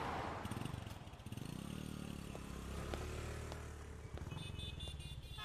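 A motorcycle engine idling and revving at close range, a steady low rumble with some clattering and a faint scrape over continuous background noise.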